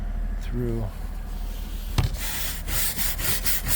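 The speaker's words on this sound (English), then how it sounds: "Came out and had to scrape" An ice scraper rasps across a car windshield coated in a thin, hard layer of ice from freezing rain in Minnesota, a series of close, scratchy strokes under brief speech.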